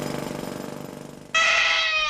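After a stretch of rhythmic pneumatic-drill pounding, a human baby bursts into a loud, sustained, piercing cry that fills the rest of the moment.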